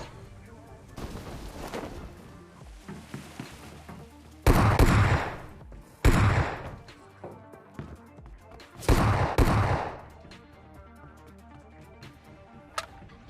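S12K shotgun fire in a video game, three loud heavy blasts spaced a few seconds apart over quieter game ambience and scattered distant shots.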